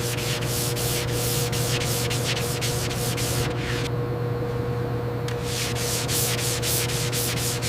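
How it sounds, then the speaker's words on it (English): A 1967 Mustang Shelby GT500 body is wet sanded by hand in quick, regular back-and-forth strokes. The rasping pauses briefly midway and then resumes over a steady low hum. "Wet sanding is crucial for achieving that mirror finish"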